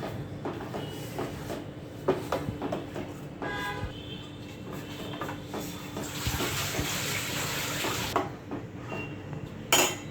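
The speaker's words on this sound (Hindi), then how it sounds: "अभी इसमें इसको मैं मिक्स करती हूँ अच्छी तरह से ऑयल के साथ।" Paneer gravy ingredients stirred with oil in a cooking pan for butter paneer: a spoon repeatedly scrapes and clinks against the metal pan, with a hiss of oil rising toward the end and a sharp clatter at the close.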